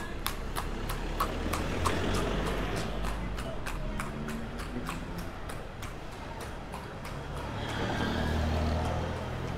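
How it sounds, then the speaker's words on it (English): A horse clip-clops past on a neighborhood street in Leon, Nicaragua, its steady hoof strikes ringing out clearly over low traffic rumble and street ambience throughout. "I'm gonna back up as soon as this horse goes by."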